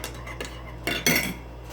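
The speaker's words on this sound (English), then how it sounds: "we're going to keep stirring up this little mixture as we go through this" Utensil clinks and scrapes against a container while stirring a juice mixture of lemons, limes and pears sweetened with honey, two brighter knocks near the end over a low steady hum.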